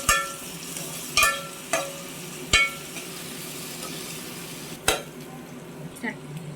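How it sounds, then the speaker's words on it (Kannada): Onions fry in ghee for ghee rice, a steady sizzle broken by several sharp clinks and scrapes of a spoon against the pan, loud and close, spaced about a second apart. "ಇವಾಗ ಆನಿಯನ್ ಫ್ರೈ ಆಗಬೇಕು."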